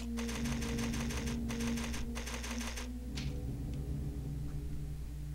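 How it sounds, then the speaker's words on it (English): Rapid mechanical clacking of a typewriter in the Resident Evil Zero video game, three bursts of dense keystrokes over a low droning game ambience, then fading into quiet rumble. "It's a typewriter."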